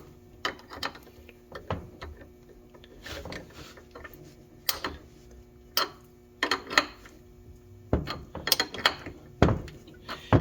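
Metal clicks, clanks and ratcheting taps ring out in scattered bursts as a crank pulley is fitted onto the engine of a classic Ford truck, close up with quiet gaps between the hits.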